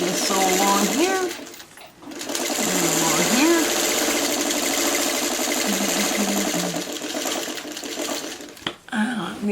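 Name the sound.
sewing machine sewing quilt block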